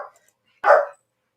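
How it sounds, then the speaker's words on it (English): A single sharp dog bark sounds close by, short and loud, in an otherwise quiet room. "my dog is barking because my son is here"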